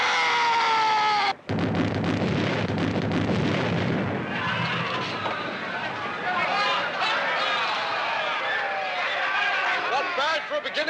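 A ship's cannons fire a broadside in a 1961 high-seas pirate film: heavy booming blasts and rumbling bursts follow a brief musical intro, mixed with crowd shouting and babble.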